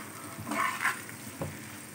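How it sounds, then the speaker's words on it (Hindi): Bitter gourd and onion frying in a pan at home, a soft steady sizzle with a couple of brief louder stirring bursts, no talk. "बस अब इसको हम करेंगे फ्राई।"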